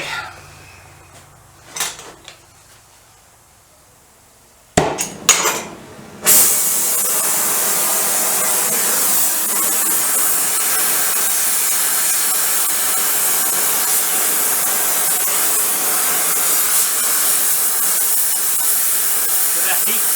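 A torch flares up against a piece of metal, with a few knocks and clatters before a steady loud roaring hiss takes over and holds without a break.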